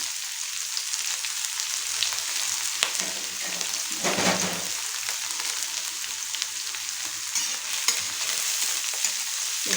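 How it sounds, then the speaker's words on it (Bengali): Chopped onion fries in hot oil in a pan for a lunchtime ridge gourd dish, giving a steady, close sizzle with occasional scrapes and stirs, and no talking. "পেঁয়াজটা একটু লালচে লালচে করে আমি ভাজবো কিছুক্ষণ"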